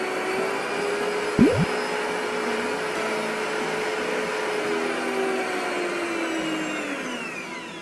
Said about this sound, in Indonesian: aku rasain itu suaranya cukup halus, terus gitarannya itu nggak terlalu kerasa sih kalau dibanding mixer yang hand mixer yang aku pakai sebelumnya